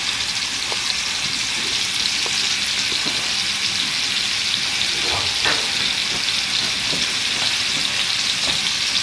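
Thick beef tenderloin steaks sear in a hot pan, a loud continuous sizzle and spatter with occasional crackles and pops, no talk over it.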